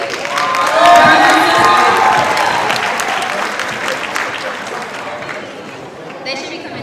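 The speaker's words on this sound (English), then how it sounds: "Y'all, can we get a round of applause for them?" Audience applause and cheering for a sophomore class coming on stage at a student open-mic show, a loud, steady wash of clapping with shouts and whoops that fades slightly toward the end.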